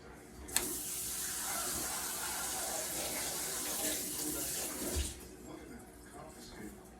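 Tap water runs steadily while a bowl is rinsed at a kitchen sink, a continuous close splashing hiss that cuts off near the end, leaving a quieter tail.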